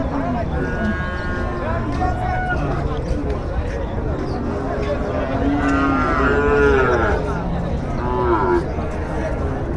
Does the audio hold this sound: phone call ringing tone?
no